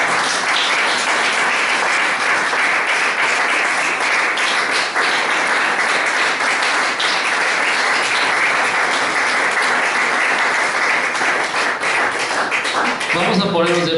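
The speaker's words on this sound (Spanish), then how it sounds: "Dale un aplauso al Señor, amén." A church congregation in Chiautla, State of Mexico, applauds in a steady, loud wash of clapping that fills the whole stretch, with voices mixed in underneath and a brief higher vocal sound near the end.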